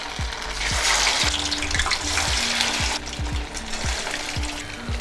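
Poha vadas made from flattened rice fry in oil in a pan over a medium flame, a steady close sizzle with repeated soft knocks and scrapes as the pieces are turned.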